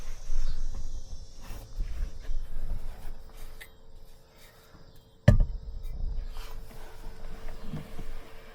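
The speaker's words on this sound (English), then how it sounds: "Still hear the old cicadas out there though" Cicadas trill outside a van at night, a faint steady insect buzz under the quiet, with scattered soft knocks and one sharp thump partway through.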